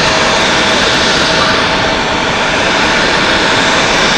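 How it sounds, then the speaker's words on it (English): An SAS airliner taxiing at Zurich Airport gives a loud, continuous roar of jet engines, steady and close with no voices over it. "there's that SAS that we saw taxiing earlier."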